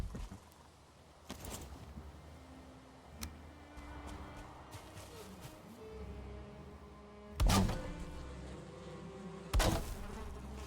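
Bees in the Valheim video game hum steadily throughout, overlaid with intermittent clicks and several loud thuds from gameplay actions.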